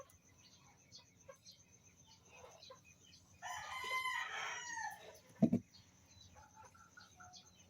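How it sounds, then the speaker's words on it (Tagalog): A rooster crows once at moderate distance, a long rising-and-falling call standing clear over steady insect chirping and faint outdoor background, followed by a couple of sharp knocks. "may lagi na lang tilaok ng manok yung ano ko"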